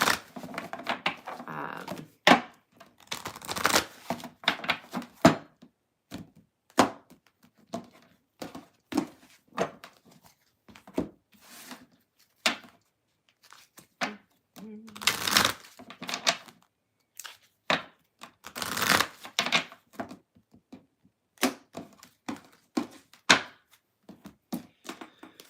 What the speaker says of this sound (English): There's so many cards. So many cards to shuffle.